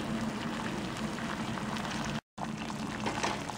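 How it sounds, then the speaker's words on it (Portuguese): Parsley tea boils in a pot: a steady, soft bubbling and hissing that carries on evenly, with one brief gap partway through. "Agora eu vou deixar ferver aqui uns 5 minutos."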